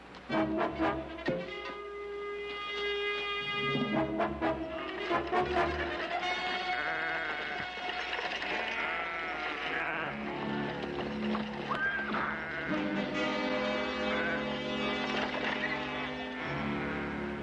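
Several sheep bleat repeatedly amid a flock, with horse hooves and whinnies mixed in, moderately close, some bleats overlapping.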